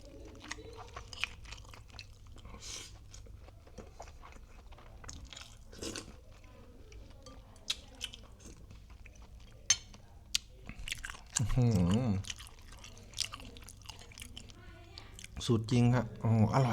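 Someone eats Thai spicy salad (yam), with soft close-up chewing and a few louder crunchy bites; someone talks between mouthfuls.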